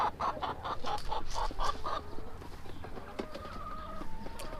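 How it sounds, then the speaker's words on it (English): Ten-week-old meat chickens clucking close by in a steady, repeated burst of short calls, trailing off into softer, scattered clucks and chirps. "Yes, they are chickens."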